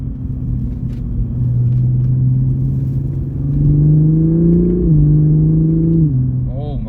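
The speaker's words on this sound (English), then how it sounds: "Look how fast the downshifts are in manual mode" A 2021 Toyota Supra engine rumbles steadily from inside the cabin, its pitch climbing in a couple of quick rises as it downshifts in manual mode, with people talking near the end.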